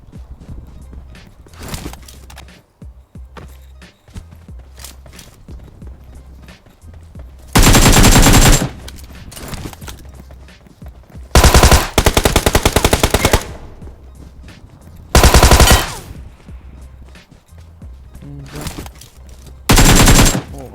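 Bursts of automatic gunfire in the mobile battle game PUBG Mobile, loud and close, with several long sustained volleys separated by quieter footsteps and movement.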